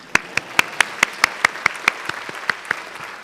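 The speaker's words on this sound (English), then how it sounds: "One more round of applause." At a school board recognition of student art, a single pair of hands claps in a steady, evenly spaced rhythm, about fourteen crisp claps, close and clear over a quiet room.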